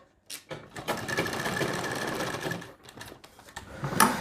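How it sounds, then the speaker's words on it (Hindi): A sewing machine runs a loose basting stitch along a folded blouse collar, with a steady rapid whirring that stops and restarts in several short bursts, close and fairly loud with no talking. "यहाँ पे इसमें एक कच्ची सिलाई लगा देंगे"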